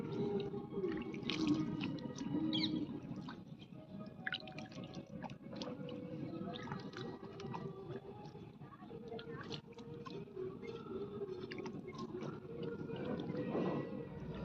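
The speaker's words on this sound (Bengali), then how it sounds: "এবার আমরা কি করব এটাকে হালকা জল দেবো বেশি জল দেবো না" A strawberry plant in moist soil gets a light watering, with soft dripping and trickling of water over a steady close background. Faint voices sound now and then.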